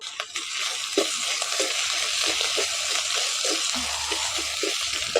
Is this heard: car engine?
no